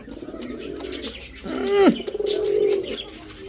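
A close racing pigeon gives a throaty rising coo, followed by a bubbling, warbling call, with faint rustling around it.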